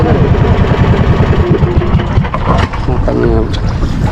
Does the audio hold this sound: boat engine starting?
yes